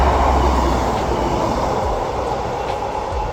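A train ride from Luton Airport toward London, with a steady loud rumble and broadband rolling noise filling the whole stretch without a break.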